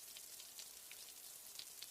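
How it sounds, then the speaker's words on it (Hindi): Heavy rain in a Hindi cartoon forest scene, a quiet steady patter with scattered brighter drop hits, heard alone with no talking. "जोरदार बारिश शुरू हो गई है।"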